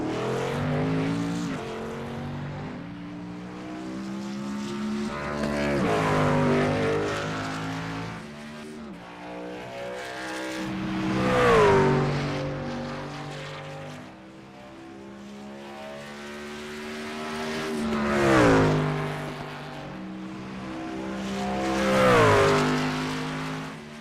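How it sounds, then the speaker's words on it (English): A race truck engine at Bristol in the Truck Series, a loud, rising and falling roar repeated across several passes. It revs up through the gears, peaks as the truck sweeps close, then drops away, with no talk over it. "Truck sounds good."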